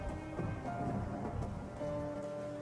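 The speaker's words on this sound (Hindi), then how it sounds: "ये बारिश का सिलसिला यूं ही कुछ दिन तक जारी रहता है।" Faint, steady rain hisses continuously on a cold winter day, mixed with a low rumble and soft sustained musical tones, with no voices.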